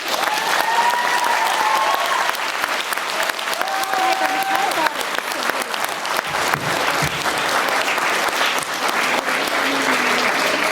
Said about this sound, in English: Everyone clap for Mel.